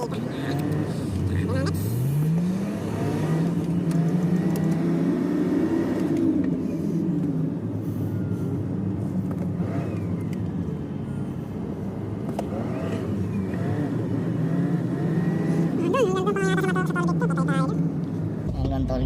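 Heavy, slow traffic at the Cavitex toll gate, with a steady rumble of idling and creeping car engines and occasional revs, heard under a person talking throughout.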